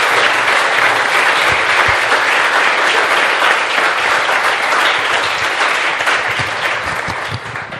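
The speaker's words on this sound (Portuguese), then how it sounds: "Recebam-nos com um forte aplauso" An audience gives a strong, continuous round of applause to welcome musicians at a talk on tradition, dense loud clapping from the start that eases slightly toward the end.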